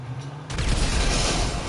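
In GTA V, an explosion bursts against an ambulance: a sudden loud, wide boom that keeps roaring and rumbling close by after the blast.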